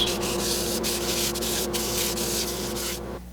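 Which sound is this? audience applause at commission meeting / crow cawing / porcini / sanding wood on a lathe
sanding wood on a lathe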